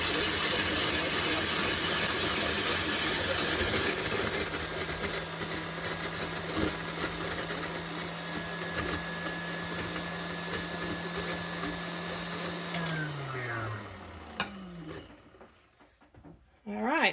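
A KitchenAid stand mixer with the shave ice attachment runs at top speed, shaving ice with a loud steady whirring grind. It winds down near the end, and a voice talks over it.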